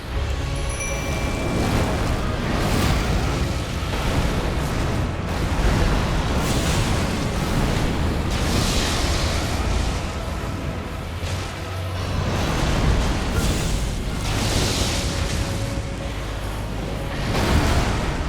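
Rumbling, booming bursts from the Rotten Stray Madness spread shot spell in Elden Ring, cast during a boss fight, rolling on continuously with dense low-end blasts and swelling surges, loud throughout.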